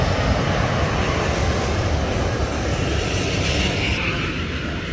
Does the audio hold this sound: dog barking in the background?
no